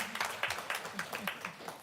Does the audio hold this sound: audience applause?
yes